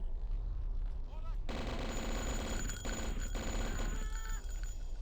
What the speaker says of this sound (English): let's just blast him with the Tommy gun, shall we?